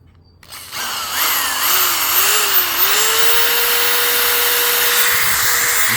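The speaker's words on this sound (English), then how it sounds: "a drill plugged in real quick so you can see." An electric drill plugged into a portable LiFePo4 power station spins up after a brief silence, its pitch sliding and wavering before settling into a loud, steady motor whine close by.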